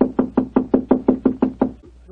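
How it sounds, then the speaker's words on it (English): Nine firm, evenly spaced knocks rap on a hotel room door, close and hollow-sounding, followed by a brief pause and a faint shuffle. "I'll knock again."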